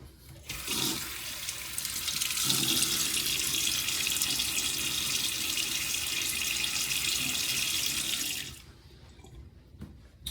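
Water runs steadily from a bathroom tap for several seconds while a face is wetted for a peppermint shave, a loud hissing stream with brief splashes, then it shuts off abruptly into quiet.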